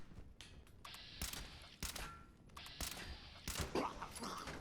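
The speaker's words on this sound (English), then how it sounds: "Let's try this with tank killer." Gunfire in the video game Fallout 76 while testing the Tank Killer perk: a series of sharp, separate shots spaced about half a second to a second apart, fairly quiet overall, with no talk.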